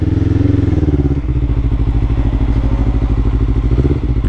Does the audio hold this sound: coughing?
no